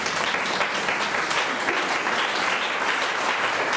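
Church congregation clapping for the actors, a dense, continuous round of applause filling the room, loud and even throughout with no talk over it.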